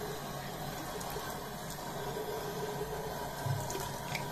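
Water runs steadily from a bathroom tap while a face is rinsed at the sink, a continuous hiss with light splashing close by.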